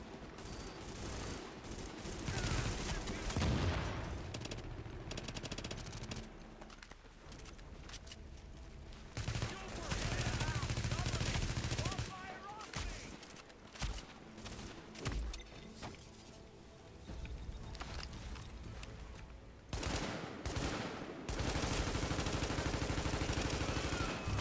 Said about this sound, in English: Warning, incoming hostiles. Crap. Where is it? Warning, supply is taking fire.